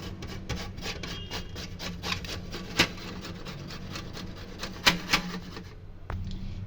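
Raw green bananas, peeled plantains for a vegetarian bhurji, are rubbed against a kitchen grater in a steady run of quick rasping strokes, close up and alone, with a brief pause near the end.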